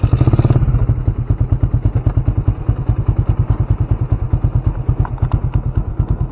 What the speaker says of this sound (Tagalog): Ang lakas ng motor sila.